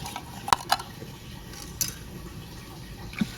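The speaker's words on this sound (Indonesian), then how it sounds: "Selanjutnya ini diaduk-aduk." A utensil stirs pudding mixture in a pot, with a few sharp clinks of metal against the container spaced over a soft, continuous scraping and sloshing background.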